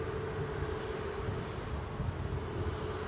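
Steady, broad roar of aircraft engines at London Heathrow Airport, a continuous even rumble held for the whole moment with no talk over it.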